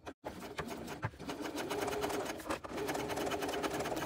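A sewing machine stitches steadily through many thick layers of a tote bag, a continuous close mechanical whirring with brief pauses, no voices.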